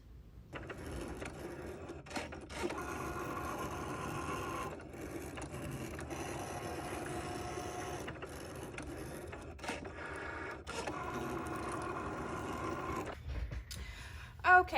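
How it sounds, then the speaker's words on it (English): An electronic craft cutting machine, loaded with a mat, cuts out small pieces for a DIY straw topper. A continuous mechanical whirring and scraping runs nearly throughout at moderate level, with brief gaps as the blade carriage shifts. "I'm gonna go ahead and load my mat into my machine, and then I will come back once all my pieces have been cut out"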